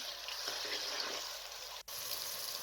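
Ground onion hitting hot cooking oil in a kadai gives a steady, fairly loud broadband sizzle that holds evenly throughout, with one brief dropout near the end and no talking.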